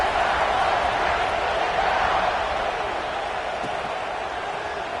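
A packed football stadium crowd at an Ohio State vs UCLA game before a kickoff, a dense, steady roar of cheering that holds at an even, loud level throughout with no single voices standing out.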